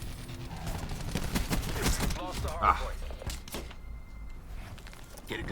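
Rapid heavy gunfire from an AC-130 gunship in the shooter Call of Duty Black Ops 4, sounding as dense bursts and thuds under game noise, with a voice talking over part of it.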